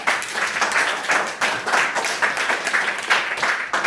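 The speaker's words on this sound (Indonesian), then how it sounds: "Tepuk tangan dulu buat siapa?" A classroom of pupils claps together in a dense, steady burst of many overlapping hand claps, loud and close, lasting several seconds with no talk over it.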